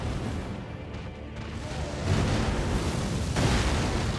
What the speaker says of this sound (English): Avoid the explosion.